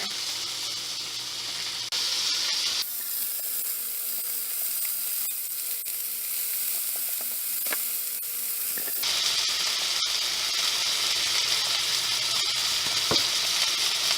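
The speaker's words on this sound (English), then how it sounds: "you want to flip these over so they can sear on the other side" Sous vide steaks sear in a hot pan with a loud, continuous sizzle that shifts abruptly in strength twice as the meat is flipped and moved, with a few soft clicks and no talking.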